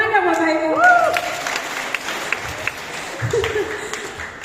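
Audience applause in an Indonesian seminar hall, steady broadband clapping across the whole stretch while a voice talks over it, fairly loud and close.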